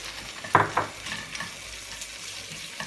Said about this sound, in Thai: หมูสับนี้เราจะผัดไปกับ ตรงพริกเลย